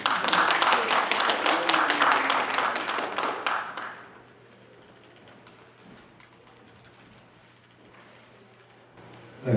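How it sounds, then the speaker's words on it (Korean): Applause from a church symposium audience welcoming a preacher to the pulpit, a dense wash of clapping for about four seconds that then cuts off into a quiet room. "박수로 한번 받아주세요."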